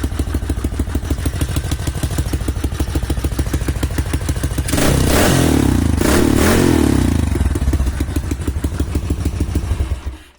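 A motorcycle engine and exhaust idle with a quick, regular putter, then rev hard in two loud bursts before dropping back to idle and cutting off at the end, heard up close.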